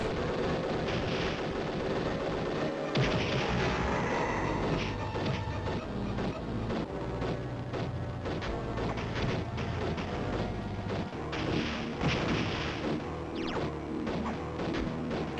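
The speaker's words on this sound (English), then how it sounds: "throw grenades at the tank." Explosions and crashing impacts from grenades thrown at a tank in The Incredible Hulk on Game Boy Advance, with dense, continuous game noise, repeated heavy blasts and rumbling low thuds running throughout.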